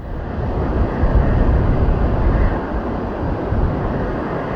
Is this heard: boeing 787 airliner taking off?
yes